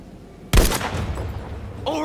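Gunfire from the Battlefield V video game erupts suddenly after a short quiet stretch, then rolls on as a sustained, loud volley.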